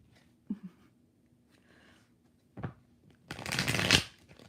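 A deck of tarot cards is handled with a few soft taps and flicks, then shuffled in one loud, close riffle lasting about a second, with no talking.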